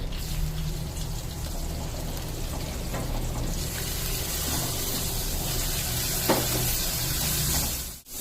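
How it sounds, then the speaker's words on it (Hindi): Ginger and garlic frying in oil in a pan make a continuous, fairly loud sizzle with occasional stirring scrapes, ending in a brief clatter. "अदरक लहसुन को फ्राई कर लेंगे ऑयल के साथ।"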